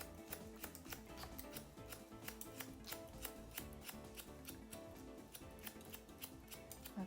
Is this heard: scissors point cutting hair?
yes